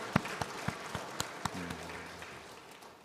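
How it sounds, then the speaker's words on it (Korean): A small congregation at an early-morning Holy Week church prayer service claps in thanks, a handful of quiet, fairly distant claps spaced out over a second and a half, then fading into room hum with a faint tone. "우리 주님께 감사의 박수 올려드리겠습니다"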